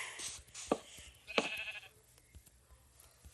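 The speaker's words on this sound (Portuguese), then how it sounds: "As ovelhas ali." Sheep bleating in a survival video game, a couple of short bleats standing out over quiet game ambience and small clicking noises.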